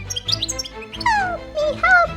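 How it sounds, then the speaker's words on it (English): A cartoon parrot chirps in a few short, high, bird-like calls with upward sweeps, mixed with squeaky child-like voices and background music. "I hear the bird's voice."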